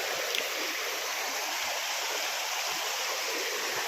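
A gurgling river on the Girnar parikrama route near Sarkadiya Hanuman: a steady, close, full rush of flowing water fills the whole stretch without a break.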